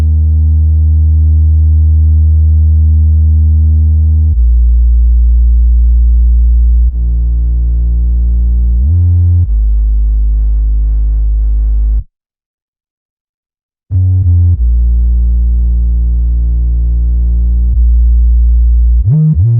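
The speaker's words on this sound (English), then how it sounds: "It's basically a sine" Simple sine-wave bass from a stock FL Studio plugin for an R&B sample: loud, pure low tones held in long notes that step between pitches, with a brief gap of silence partway through.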